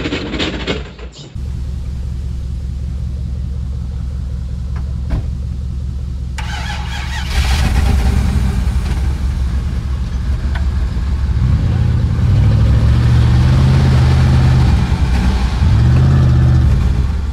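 A Jeep Grand Cherokee ZJ V8 engine cranks and catches, then idles with a rough rumble before revving up loudly several times, close by.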